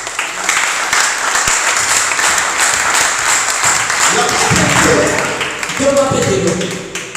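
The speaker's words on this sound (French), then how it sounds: "Est-ce que tu peux acclamer pour la gloire de Jésus?" A church congregation applauding during a worship service, steady sustained clapping that runs throughout, with voices rising over it toward the end.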